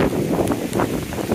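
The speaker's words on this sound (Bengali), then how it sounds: "বাতাস" Strong storm wind buffets the microphone outdoors, a steady, loud roar of rushing air with gusty surges throughout and no clear voices.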